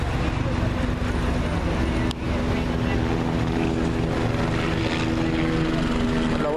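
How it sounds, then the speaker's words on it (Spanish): Steady engine drone with a low rotor-like hum runs loud and continuous throughout, fitting a helicopter passing overhead in El Salvador, with a brief dip near the middle. "viene un helicóptero"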